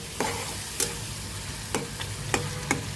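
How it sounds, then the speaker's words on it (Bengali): Garlic paste, ginger paste and spices fry in oil in a pan under a constant close sizzle, punctuated by five sharp taps and scrapes of a spoon as it is stirred. "রসুন বাটা, আদা বাটা, সবগুলো মশলা এখন আমি আবার নাড়িয়ে দিচ্ছি।"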